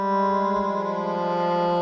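A sustained Ableton Live synth drone from a single oscillator on its standard setting, a steady harmonic tone holding evenly and fairly loud alone for the whole stretch.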